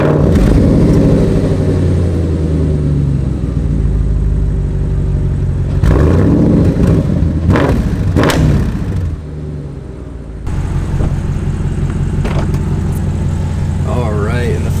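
An Audi RS5 B8.5 exhaust rumbles in a steady, deep drone, with a couple of sharper rev surges midway and a brief dip before the heavy tone resumes.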